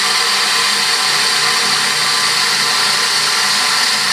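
A Shimpo RK-2 potter's wheel drive runs with a steady, loud broadband whir and hum, continuous and unbroken.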